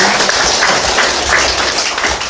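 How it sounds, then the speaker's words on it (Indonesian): Wedding guests at a church ceremony in Pujon applaud the bride and groom, a steady, dense wash of clapping from a nearby crowd that continues without a break. "Beri tepuk tangan kepada kedua mempelai ini."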